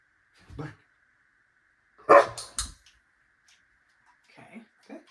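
A dog gives a few short, sharp barks and yips in separate bursts with quiet gaps between, close by in a quiet indoor room.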